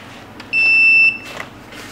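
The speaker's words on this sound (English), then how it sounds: "When the actual temperature is equal or larger than the setting value, the heater will stop working and the buzzer will alarm." An Arduino buzzer in a temperature-detecting heating control system sounds one loud, steady high-pitched beep lasting about half a second when the temperature limit is reached, close and alone over faint background hum.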